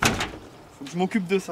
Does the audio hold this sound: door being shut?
yes